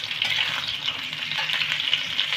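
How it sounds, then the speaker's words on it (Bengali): Sliced ridge gourd tossed into hot oil with a spice tempering, giving a steady, close sizzle with stirring scrapes throughout and no talking. "এবার দেব কেটে রাখা ঝিঙেগুলোকে। ভালো করে আমি ফোড়নের সাথে মিশিয়ে নেব।"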